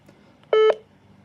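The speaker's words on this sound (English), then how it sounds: "and then this is your chime" DeWalt two-way radio walkie-talkie chime, a single short two-tone electronic beep, loud and close in an otherwise quiet room.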